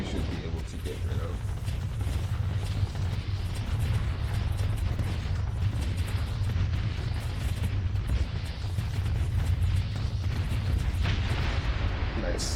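A Star Fortress is destroyed in a space strategy video game, producing a dense, continuous rumble of booming explosions and heavy bursts that hold steady at a loud level throughout, with voices talking over it.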